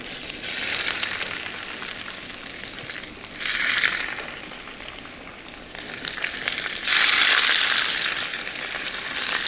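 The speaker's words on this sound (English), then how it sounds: "I put in 2 tablespoons of vegetable oil, and I'm just going to cook the salmon, skin side down" Salmon searing skin side down in a very hot pan with two tablespoons of vegetable oil, giving a steady broadband sizzle that swells in louder bursts, close and continuous with no talking.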